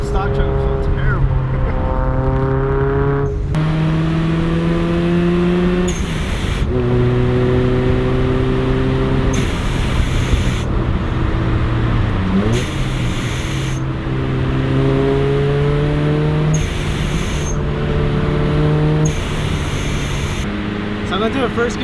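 A supercharged 2011 Toyota Tacoma work truck accelerates through the gears, engine and supercharger whine climbing in repeated rising sweeps with brief shift breaks, loud and close from inside the cab, a voice speaking over it at times.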